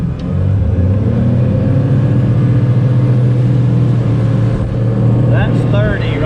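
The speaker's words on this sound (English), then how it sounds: "We're going to jab this thing with some throttle and going to show you guys how quickly she jumps up on top." A boat's engine is jabbed to full throttle, and the boat jumps up on plane with a loud, steady, close roar that holds throughout, mixed with wind and water rush.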